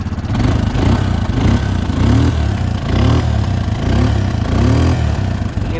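A 2000 Arctic Cat 300 4x4 ATV with a worn clutch runs close by, its engine a loud, steady, throbbing drone with a regular pulsing rhythm throughout.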